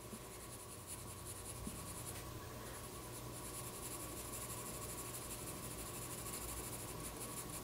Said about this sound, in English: I'm going to choose an H pencil to do this.